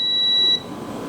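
A multimeter continuity tester gives one steady high beep lasting about half a second and then cuts off, sounding while a phone board is probed for a short circuit; no talking.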